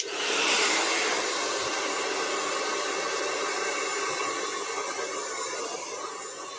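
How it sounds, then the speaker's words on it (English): A blow dryer runs steadily over a painted Santa artwork, a loud continuous whooshing hiss that starts abruptly and holds for several seconds with no talk. "I'm going to take my blow dryer to this one more time."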